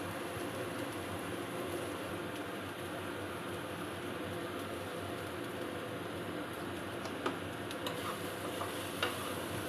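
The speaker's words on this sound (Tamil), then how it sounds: "ஃப்ளேம் கம்மியாக வச்சு ரொம்ப மெதுவாக கிளறி கொடுக்கணும்." Okra poriyal fries over a low flame as it is slowly stirred in a pan, a steady dense sizzle running throughout with a few faint scraping ticks near the end; no one speaks.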